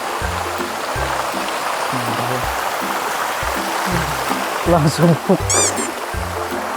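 Water streams from a spout at Sedudo waterfall, a steady rushing splash under someone speaking nearby, with a few brief higher calls in the background toward the end.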